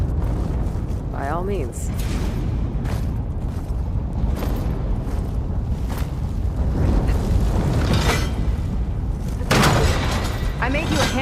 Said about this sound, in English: Another ballista. Maybe we can use it. I'll shoot this time.